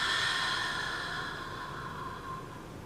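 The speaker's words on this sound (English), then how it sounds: "One more big inhale and exhale through your mouth." A deep breath in during a plus-size yoga flow, then a long, audible exhale out through the mouth that slowly fades, close and alone.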